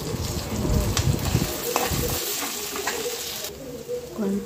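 Small brinjal pieces fry in a pan with crushed garlic chili powder, a steady close sizzle with occasional stirring scrapes throughout.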